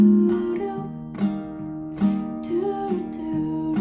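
Acoustic guitar picks out the repeating riff of Arash Buana's "I'll Be Friends With You," a steady run of plucked notes with clear attacks and ringing strings, played alone, close and at moderate volume.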